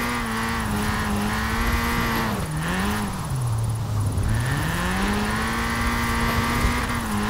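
A car engine in the racing game Forza Horizon 4 drones loudly and continuously, its pitch dipping and then climbing again as revs fall and rise, with no talk over it.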